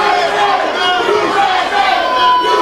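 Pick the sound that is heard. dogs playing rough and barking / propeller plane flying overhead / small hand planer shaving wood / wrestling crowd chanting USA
wrestling crowd chanting USA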